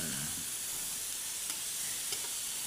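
Meat with garlic sizzles in a pan, a constant bright hiss and crackle up close, with a couple of soft stirring clicks and no voice over it.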